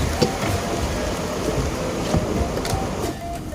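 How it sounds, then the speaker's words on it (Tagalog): Steady dense hiss of sudden heavy tropical rain fills the whole stretch, close and constant, with a few faint taps and knocks over it. "Lakas, bigla umulan."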